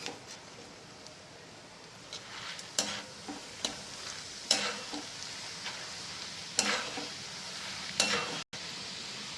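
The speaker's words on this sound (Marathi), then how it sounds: "आता आपण चिवड्याची डाळ असतं ते आपण पाळून घेत आहोत" Roasted chana dal frying in oil for corn chivda, a soft steady sizzle marked by intermittent stirring scrapes and taps, fairly quiet and close, with no speech.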